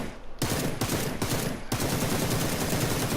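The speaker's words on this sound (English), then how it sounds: "he starts firing at me" Gunfire in PUBG, several loud close bursts of rapid automatic shots cut by short gaps, then a steady continuous stream of fire, with no talk.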